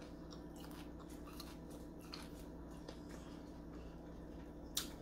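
A bite into a fried chicken parmesan slider, a series of soft crisp crunches and chewing clicks up close, quiet overall with one sharper crackle near the end and no talking.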